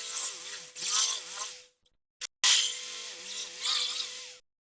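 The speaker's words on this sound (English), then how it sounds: "There's two rivets, so let's get a drill on there and see what we've got." A power drill whirs loudly up close in two long bursts drilling out rivets on a die-cast Corgi Land Rover toy, its motor pitch wavering, separated by a short pause with a couple of clicks.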